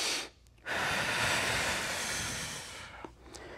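Deep breathing held through a hip internal rotation stretch: one long, loud, steady breath of about two and a half seconds, close up, followed by a brief quieter intake, with no talking.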